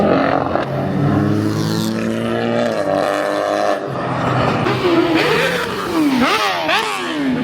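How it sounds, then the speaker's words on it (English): Loud car engines rev repeatedly nearby at the Nürburgring, pitch rising and falling in sharp sweeps over a constant background of traffic and motorbike roar. "That guy is revving too."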